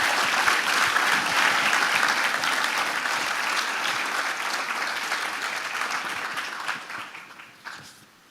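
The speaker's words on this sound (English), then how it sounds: "One last bit of applause for my hero," A crowd at a thought leader forum applauds a speaker, sustained dense clapping that holds steady for several seconds before tapering off and dying away at the end.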